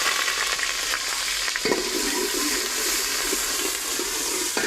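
Onions drop into hot ghee and fry with a loud, dense, continuous sizzle, close up and steady throughout, with a brief clatter near the start and no talk.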